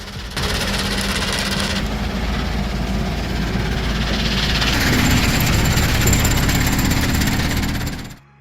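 A vibrating screen deck shakes steadily while a bucket tips soil onto it, making a loud, continuous heavy rumble with a dense mechanical rattle that holds for about eight seconds before cutting off.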